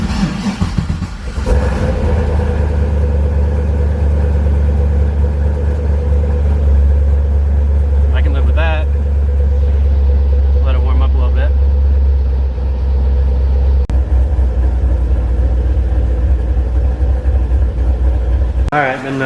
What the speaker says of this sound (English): This is a cold start. It hasn't run yet today.